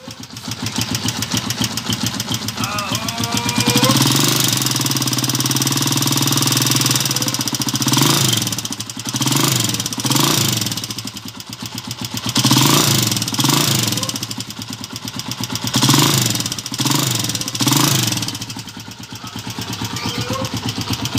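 Noisy engine of a Honda TMX155 motorcycle running, a loud rattling idle with a fast ticking knock, revved up in several surges before settling back, close to the microphone.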